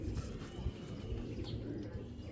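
A caged Giribaz tournament pigeon coos in low, throbbing pulses, close and moderately quiet, with a few faint higher chirps and rustles scattered over the steady murmur.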